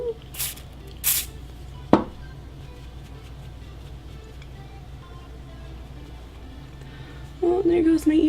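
Dior Airflash spray foundation being misted onto the face, two short sharp hissing sprays near the start, followed by quiet room tone and a voice talking at the end.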